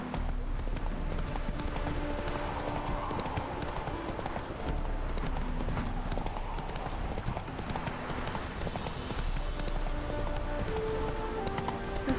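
Roach, the horse in The Witcher 3: Hearts of Stone, runs with a steady drumming of hooves that continues under game music and ambient sound.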